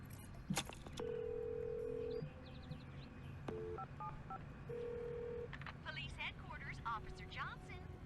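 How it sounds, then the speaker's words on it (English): Telephone keypad tones from a phone booth in the video game Destroy All Humans! 2, a few clear beeps at different pitches with short gaps between them, then a faint ringing and a voice talking over game sounds. "this game is a little ahead of its time because you can actually make prank calls in phone booths"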